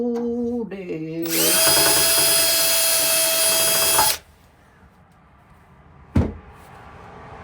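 An electric power drill whirs at a steady high pitch for a few seconds while installing old-fashioned hinges, preceded by brief revving spurts and followed by quiet and a single sharp knock.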